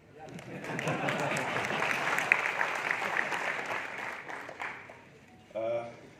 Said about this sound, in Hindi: बहुत धन्यवाद इतनी तालियों के लिए।